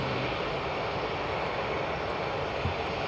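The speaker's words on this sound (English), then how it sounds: "Here comes the American A321neo XLR." An American Airlines Airbus A321neo XLR approaches at Edinburgh Airport, a steady broad engine roar filling the whole stretch at moderate level with no voices.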